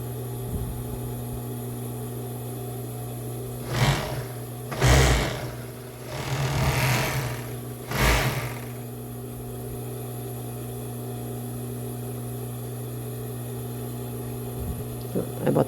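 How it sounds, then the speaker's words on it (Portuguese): A sewing machine stitches lace onto a cropped bra, its motor giving a steady close hum throughout, with a few louder bursts of stitching in the middle and no talking. "Vamos costurar."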